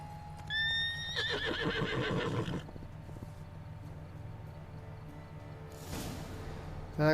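A unicorn whinnies in The Witcher 3: Blood and Wine, a clear, high neigh followed by snorting and shuffling hoof sounds, then quieter game ambience and a brief rush near the end.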